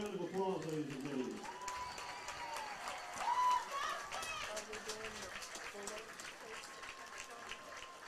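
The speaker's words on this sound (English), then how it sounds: "Let's give them a big round of applause, ladies and gentlemen." Crowd applause at a high school football game between Stigler and Muldrow, a moderate spread-out clapping under a public-address voice, with crowd noise and whistles in the background.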